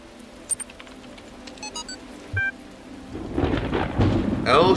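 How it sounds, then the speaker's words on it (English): A thunderstorm in the video game The Talos Principle: scattered drips and small tones give way to swelling rain and a deep rolling thunder rumble that grows louder toward the end. "it's a little dark. It's stormy."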